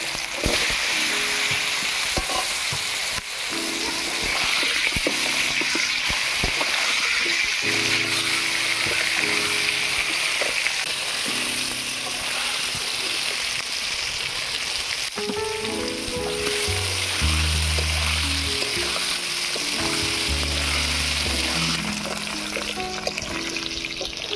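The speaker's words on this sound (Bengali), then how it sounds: "এবারে ভেজে নেব ওল।" Steady, dense sizzling of elephant foot yam pieces frying in hot oil, loud and close, with occasional clinks and stirring through the whole stretch.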